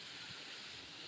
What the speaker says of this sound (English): small, small waterfalls.